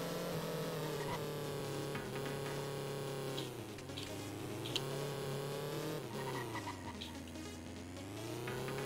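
Go-kart engine droning in the PS1 racing game Formula Karts, a continuous buzzing whine that rises and falls with gear and throttle changes, with brief squeals as the kart slides through corners, no talk over it.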